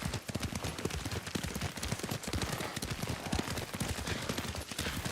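Horse hoofbeats from the Ghost of Tsushima video game, a rapid continuous galloping clatter that stays loud and dense throughout, with no talk over it.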